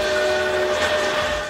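A train rolls past with a loud, sustained whistle that holds steady for about a second and a half, in a railway yard where old trains and steam locomotives were left.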